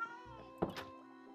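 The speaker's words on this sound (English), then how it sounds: "Where are my new cats?" A single Minecraft cat meows once, fairly faint, over a steady tonal game background hum.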